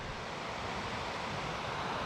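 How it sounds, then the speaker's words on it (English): Water in a Scotland stream tumbles over a small drop, a steady broadband rushing wash that sounds like a bigger waterfall, faint and continuous. "it's not actually a big waterfall like it sounds. It's just a drop in the water"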